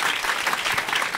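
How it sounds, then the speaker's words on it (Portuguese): Live comedy-show audience breaking into applause, a brief dense burst of clapping, close and fairly loud, steady from start to finish. "o pessoal começou a aplaudir aqui"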